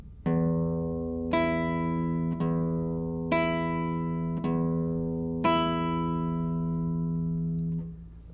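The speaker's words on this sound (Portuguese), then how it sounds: "Pratique esse mesmo exercício sem apoiar na segunda corda, só com a ponta dos dedos indicador" A classical guitar string plucked with the fingertips in a slow finger exercise: six clear, ringing notes of the same low pitch spaced about a second apart, each sustaining into the next, close and clean with no talking.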